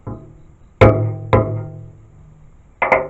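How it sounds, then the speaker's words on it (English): A hammer strikes a tomato frozen rock-hard in liquid nitrogen, two sharp, loud cracking blows about half a second apart, each ringing briefly, followed by a third hit near the end. "It takes 2 hits with a hammer to bust open the frozen tomato."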